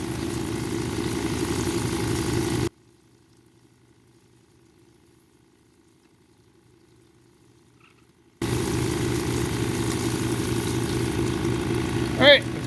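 A water-fed lapidary grinder shapes a Prairie agate cabochon, giving a steady wet whirring and hissing hum that cuts out to near silence for a few seconds before starting up again.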